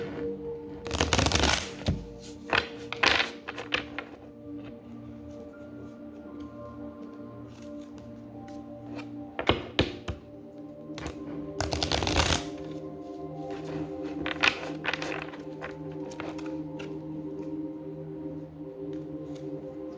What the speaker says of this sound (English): I'm separating the cards to shuffle one more time